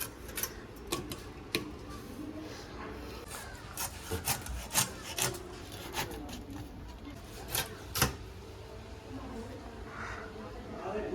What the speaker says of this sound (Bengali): আমার বাবা এখন কাটছে পদ্মার ইলিশ